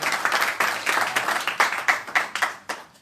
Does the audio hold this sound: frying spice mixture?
no